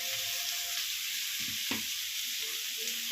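Potatoes frying with green chillies in a pan, a constant loud hiss of oil with a few soft stirring knocks, close and without speech.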